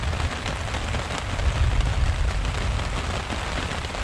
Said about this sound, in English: Heavy rain, lots of lightning, loud thunder.